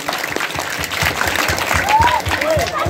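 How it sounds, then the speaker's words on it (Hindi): Audience applause at a community gathering, a brisk burst of clapping close by with some chatter and a few whistle-like tones mixed in. "समाज जोरदार तालियां"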